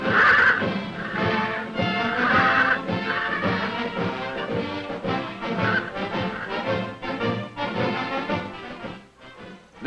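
A wild stallion neighs and whinnies repeatedly while being saddled, loud and close, with hoof thuds and commotion throughout.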